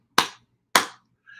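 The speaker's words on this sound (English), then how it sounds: "clap three times" Bare hands clapping in a simple rhythm sequence: two sharp, close claps about half a second apart, each with a short decay, then a brief faint tone at the end.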